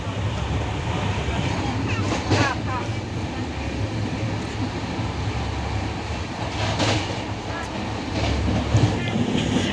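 Steady rumble of a moving train on a rainy day, with faint rhythmic rattling of the carriage over the tracks and people talking nearby throughout.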